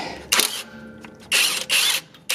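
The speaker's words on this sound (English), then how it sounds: "We're going to see if we can just bust it off if it stays loose with just a 17." A 17mm wrench breaks loose a sway bar end link nut on a 2012-2016 Honda CR-V, giving several short bursts of loud ratcheting clicks with brief pauses between them. No one speaks.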